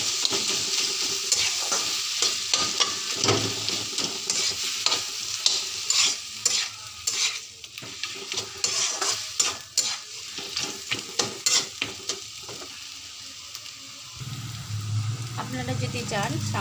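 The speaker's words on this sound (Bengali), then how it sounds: "হালকা আঁচ কমিয়ে দিয়ে নাড়াচাড়া করবেন।" Taro greens cooked with a fish head are stirred in a pan over low heat, giving repeated close scraping and clinking strokes over a gentle sizzle, with a deeper rumble near the end.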